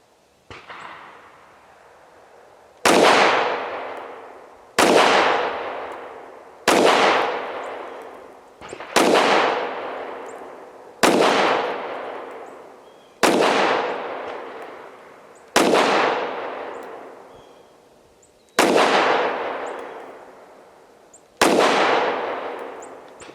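Tisas PX 5.7 pistol firing at an outdoor gun range: ten loud, sharp shots spaced about two seconds apart, each with a long decaying echo, heard alone with no talking.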